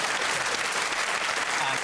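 Studio audience applause fills the room on a British comedy panel show, a steady, dense wash of clapping from many hands throughout, fairly close and even in level.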